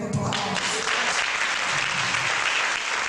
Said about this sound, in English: I think God deserves a hand of applause.